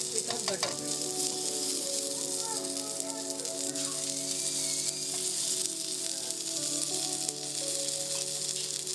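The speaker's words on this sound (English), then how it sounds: "put it on the tawa and apply butter on all the four sides" Paneer and vegetables fry in butter on a hot tawa, a loud continuous close sizzle with light spattering and faint clinks over a low background tone, no talking.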